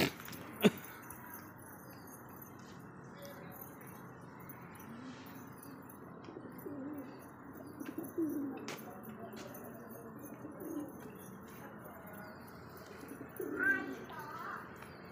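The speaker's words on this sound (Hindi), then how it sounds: "ये देखिए कबूतरों का घर हो रहा सामने, ये कबूतर पाल रखे हमने।" Soft, low coos from kept American pigeons rise now and then against a quiet background, with a few faint clicks and rustles.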